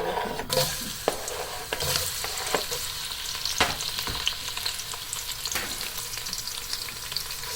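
Steady, bright sizzling of onions frying in hot cooking oil, close by, with occasional clicks and stirring scrapes.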